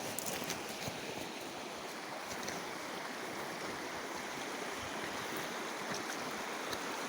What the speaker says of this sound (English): Yeah, this is Indian River.